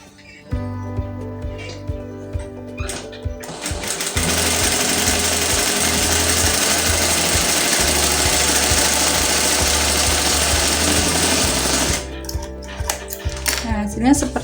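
A sewing machine stitches fabric in a long continuous loud whirring run, bracketed by short bursts of rhythmic mechanical clatter before and after.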